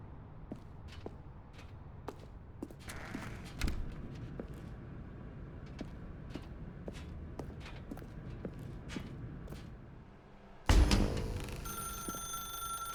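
A telephone rings in the office-set video game The Stanley Parable, a repeated ringing pulse over a soft room background with regular footsteps. A louder clatter bursts in near the end.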